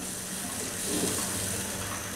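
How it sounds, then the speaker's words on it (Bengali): Water poured into a pan of new potatoes frying for a rohu fish curry, giving a steady close rush and hiss that swells slightly midway and holds without a break. "এর মধ্যে আমি একটু পানি দিয়ে দিব"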